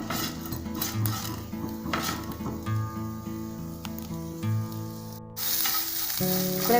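Onions fry in a pan for curry leaf chutney with a steady close sizzle, while a spoon scrapes and clinks against the pan at intervals and no one speaks.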